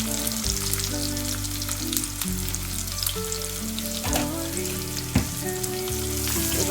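Turmeric, salt and spices frying in a pan for homemade chole sizzle steadily and loudly up close, with a low humming tone underneath and no voices.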